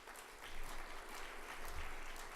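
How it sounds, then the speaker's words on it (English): Steady applause from an audience at a green tourism awards ceremony honouring a Gold Star winner, fairly faint and distant, a continuous patter of many hands with no voices on top. "Could we have a round of applause for them?"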